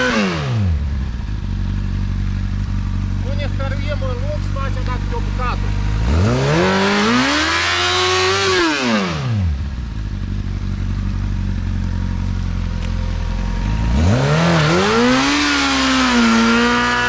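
Motorcycle engine revving hard during a rolling burnout, two long rising-and-falling rev sweeps separated by a lower idle, loud and close.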